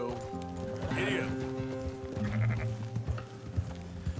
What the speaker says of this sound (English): Herding sheep.